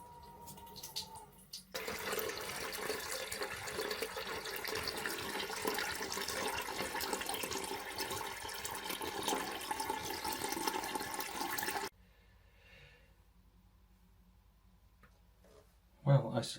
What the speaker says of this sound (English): Just let a little bit of water through steadily first.